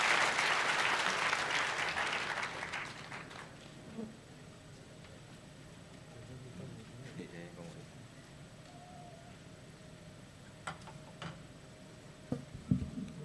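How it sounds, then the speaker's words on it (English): An audience at an International Anti-Corruption Day event applauds a member of parliament, loud clapping at the start that fades within a few seconds into a quiet room with scattered ticks and faint murmurs. "Please clap for MP."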